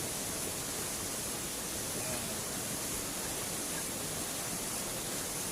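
The Ciberem river rushes beside a camp near a village, making a dense, steady, unbroken roar of flowing water that fills the whole stretch with no voices.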